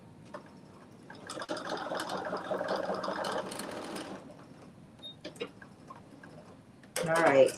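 A sewing machine running a reinforcement stitch on a McCall's 8142 garment: a steady mechanical whir for about three seconds, then stopping, with a few ticks and talk afterward.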